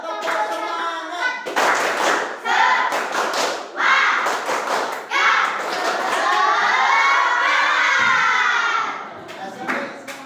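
Students at an Islamic junior high school clap together in rhythmic bursts of spirit clapping, loud and close, with chanting voices mixed in and a sustained group shout near the end.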